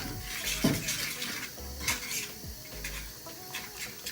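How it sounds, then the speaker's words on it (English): Egg mixture is stirred in a bowl for a Nigerian fried egg dish, with close, irregular clinks and scrapes of a utensil against the bowl. "And you just literally give it a good old mix in here."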